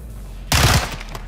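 Gunfire in the Call of Duty: Modern Warfare 2 campaign erupts abruptly as a loud, dense burst of shots lasting about a quarter second, then fades into a softer reverberant tail with scattered faint echoes.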